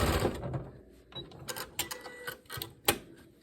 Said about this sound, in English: I'll just sew these two together.